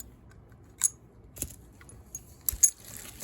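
Keys for a lever lock jangling and clicking in a few sparse bursts, small metallic chinks separated by quiet gaps, close and fairly faint with no voices.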